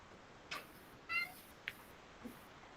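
A house cat gives four short, faint meows and chirps, spaced apart, nearby in an otherwise quiet room.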